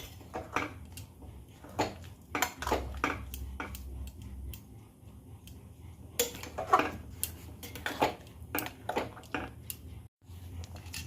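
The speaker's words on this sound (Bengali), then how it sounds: "এবার সমানে নাড়তে হবে।" A spoon stirs nolen gur (date palm jaggery) batter for patishapta in a pan, making an irregular run of close, light ticks and scrapes against the metal, quiet throughout with a brief pause near the end.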